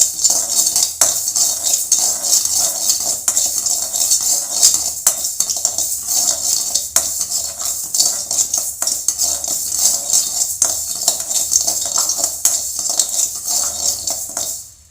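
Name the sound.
rice being roasted and stirred in a pot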